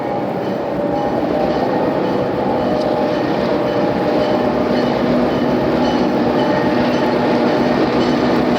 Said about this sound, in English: P&D local with his Jeep is arriving at Summit, working through the plant.